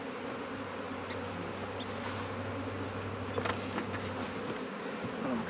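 A dense, continuous hum of honeybees swarming around a freshly installed outdoor hive, steady and fairly close, with individual bees swelling louder now and then.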